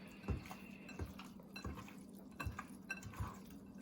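Marinating beef being mixed by hand for stew, with a handful of soft wet slaps and light clinks against the bowl at a slow, uneven rhythm.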